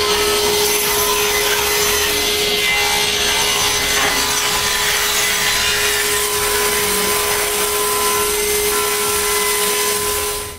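Wood pieces being ripped lengthwise with a saw while building a tack box: a loud, steady cutting roar with a faint underlying hum, running unbroken for about ten seconds.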